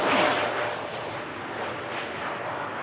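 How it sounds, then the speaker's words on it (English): A TUI Boeing 787-9 Dreamliner rotating on takeoff, a broad steady jet roar heard at moderate distance with no voices. "What a smooth rotation that was from the TUI 787-9 Dreamliner"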